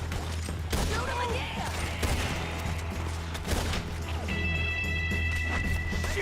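Gunfire and impacts in a shootout in the video game Red Dead Redemption 2, repeated sharp shots and crashes in quick bursts, with voices talking over them.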